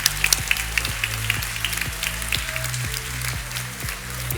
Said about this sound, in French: que l'on applaudit bien fort, ainsi que leurs professeurs